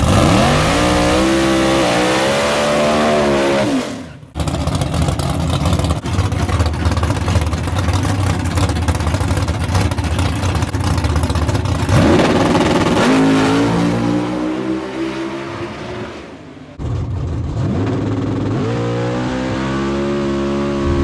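A Ford Mustang makes a drag racing pass at Bradenton Motorsports Park: a loud, close engine roars and climbs through rising revs, with a brief drop between gear changes before pulling hard again toward the end.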